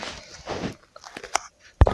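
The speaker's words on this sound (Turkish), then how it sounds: "O ayak sesleri geliyor." A few soft, crunchy footsteps in quick succession in the video game Hello Neighbor, followed by a sharp thud, with some faint background sounds.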